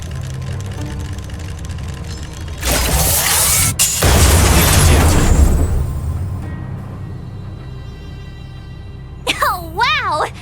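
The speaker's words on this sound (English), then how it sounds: "We wiped them all out in a single explosion!" A loud, sustained explosion booms in the video game Honkai: Star Rail, a broad roaring blast that fades over a couple of seconds amid game sound effects and voices.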